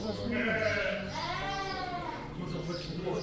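Sheep bleat inside a sheepfold at Litochoro, Greece, several wavering cries rising and falling close by over a steady farm background.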